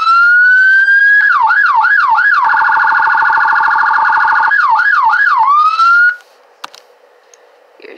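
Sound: police car siren in Greenville video game

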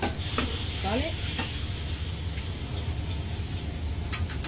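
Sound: rice frying with oil in a pan

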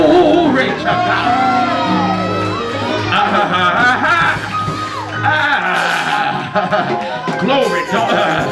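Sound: congregation clapping and shouting glory to God

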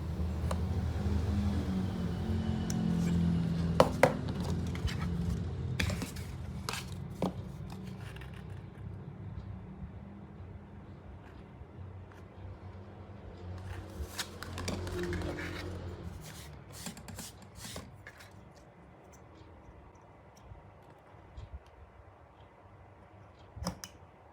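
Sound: cutting and trimming a microwave oven mica sheet

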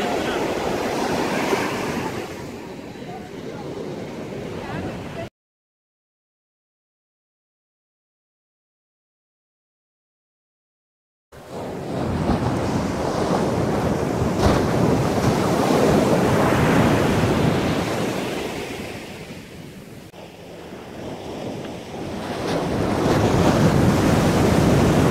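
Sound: ocean surf waves breaking on Goa beach

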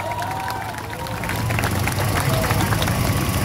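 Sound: protest crowd applauding

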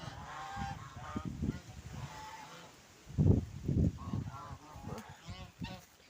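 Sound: geese honking

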